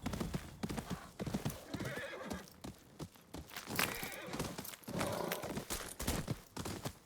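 A horse gallops in the Ghost of Yōtei video game, rapid rhythmic hoofbeats pounding throughout with a loud whinny partway through, up close and steady.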